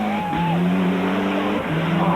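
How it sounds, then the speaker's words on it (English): Little Ford Escort rally cars at the 1993 Boucles de Spa cornering hard, engines revving loud and close with pitch shifts and tire squeal through the turn. "Really cornering superbly, these little Escorts."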